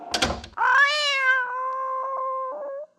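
Kittens meowing on a vintage Disney children's record: a brief rustle or knock, then one long, drawn-out, clear meow that holds steady for about two seconds before stopping, close and alone.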